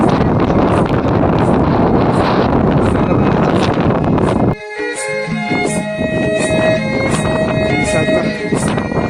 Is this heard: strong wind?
yes